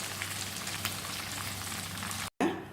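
Kerala-style chicken fry crisping in hot oil, a dense, even sizzle like rain on a surface, close and steady, cut briefly by a silent gap near the end.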